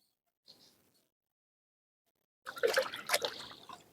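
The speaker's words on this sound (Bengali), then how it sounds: "তো ইলিশ মাছগুলো আমি এক এক করে ধুয়ে নেব।" Hilsa fish washed by hand in water in a Sundarban village kitchen: a soft splash, a pause of near silence, then a short run of close, trickling splashes.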